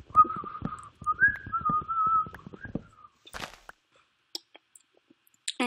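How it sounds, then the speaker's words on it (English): A person whistles a short melody of held notes for about three seconds close to the listener, followed by scattered clicks and small handling noises. "Boom, whistling."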